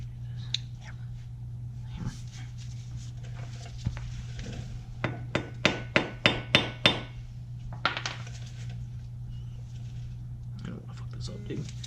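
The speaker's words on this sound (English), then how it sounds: "just be very careful prying it up." A tool prying up the front wheel bearing seal on a Ford Ranger, heard as a quick run of sharp metallic taps and clicks over a steady low hum, with scattered knocks before and after.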